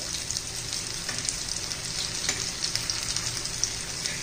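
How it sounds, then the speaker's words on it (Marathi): Dill fritters (shepu vadi) fry in oil, a dense crackling sizzle that runs steadily with small bright pops scattered across it. "छान असं तांबूस कलरवर मस्त अशा तळून घ्यायच्या आहेत"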